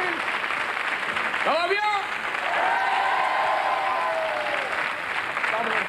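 A TV talk show studio audience claps steadily to welcome an actress. The dense, even applause runs the whole time, and a few voices speak briefly over it.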